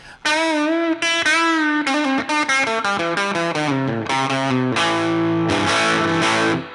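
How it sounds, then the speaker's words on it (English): Electric guitar through a Rat distortion pedal, ringing gritty single notes and a descending run, then sustained crunchy chords, loud and close. "the sound that I really like with the Rat is the distortion just on a little bit"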